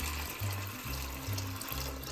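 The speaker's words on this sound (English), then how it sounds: "Add fresh water." Fresh water pours steadily into an Instant Pot inner pot that already holds beans, a close, gentle splashing stream with a faint rhythmic hum running under it.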